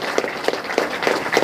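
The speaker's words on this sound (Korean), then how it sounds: "우리 승리를 위해서 박수를 합니다" Listeners at a political lecture on conservative values clap together in a steady rhythmic beat, each round of hands landing at regular short intervals, moderately loud and without speech over it.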